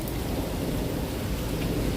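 A strange low rumbling from the sky during a storm under a green-tinged sky, steady and continuous with a dense roar filling the whole stretch, with no talking.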